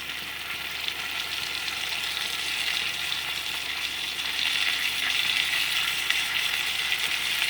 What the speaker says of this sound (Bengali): তো আমি এখানে মশলাটা দিয়ে মিক্স করে নিয়েছি। এবার এটা একটু কষবে